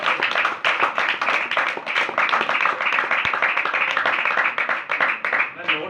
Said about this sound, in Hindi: आप अब सब अपने लिए एक बार जोरदार तालियां बजाइए